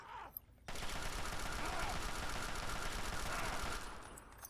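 Sustained automatic gunfire in the video game Fallout 3, a loud, dense burst of rapid shots running for several seconds, starting abruptly after a brief quieter moment.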